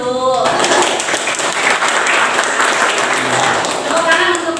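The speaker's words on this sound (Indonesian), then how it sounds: "Ya, tepuk tangan dulu." A classroom of students claps for classmates, a dense, loud burst of many hands, with voices briefly heard at the start and end.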